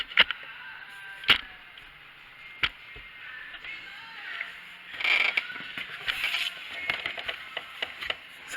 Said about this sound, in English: I'm just using a little 1/4 inch socket set because there shouldn't be much torque on it